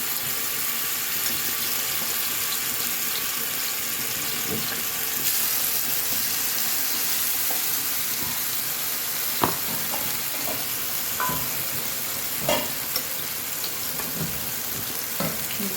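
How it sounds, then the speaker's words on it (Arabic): Breaded chicken panne frying in hot oil in a pan, a continuous hiss of sizzling with a few sharp clinks and knocks scattered through the second half, no talking. "بعد الزيت والطاسة بتاعتي ما سخنت تماما، بجيب البانيه وانزل بيه"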